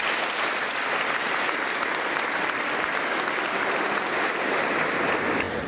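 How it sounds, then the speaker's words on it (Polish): Sustained, dense applause from an audience at the opening of a school sports hall, steady and full throughout with no break. "Poproszę o brawo."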